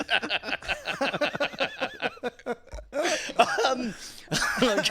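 Repeated harsh throat clearing and coughing bursts, close and rough, in quick succession with brief pauses between.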